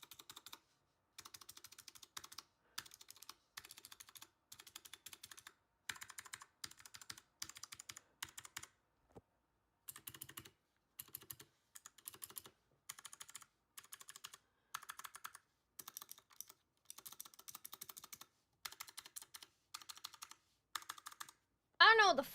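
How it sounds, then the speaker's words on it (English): A mechanical keyboard with blue switches is typed on in close, crisp clicky bursts separated by short pauses, with a brief squeaky sound at the very end. "Blue switches sound test."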